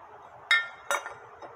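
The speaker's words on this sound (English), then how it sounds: "Here I have the bolts for the motor mount" Motor mount bolts for a Toyota 2GR-FE 3.5-liter V6 engine clink together as they are handled, with two sharp, close metallic chinks followed by a softer tap.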